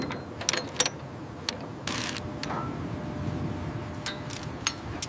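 Torque wrench tightening a socket on a bridge cable stay, heard as scattered ratcheting clicks and metallic clinks over steady site hum, with a brief louder burst midway.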